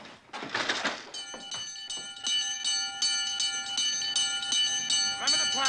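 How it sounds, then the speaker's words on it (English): A bell rings repeatedly and loudly in a Wild West town, its bright metallic strikes sounding in a steady rhythm after some shuffling and commotion at the start. "Can't you get that bell?"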